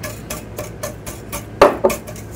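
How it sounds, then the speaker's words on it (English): Eggs are whisked with sugar, cornstarch and salt in a bowl, a close run of rhythmic whisk strokes tapping against the side, with two louder clacks near the end. "and whisk this together until it's nice and smooth"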